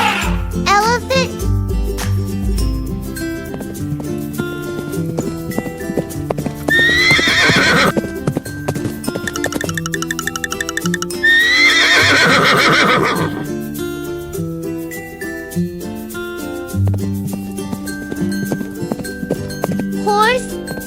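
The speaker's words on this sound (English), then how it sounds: "Horse?" Horse hooves clip-clop steadily throughout, with two loud, close neighs rising around the middle and later, over a constant musical background in a children's animal-learning setting.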